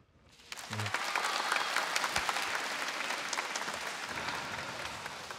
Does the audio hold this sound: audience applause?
yes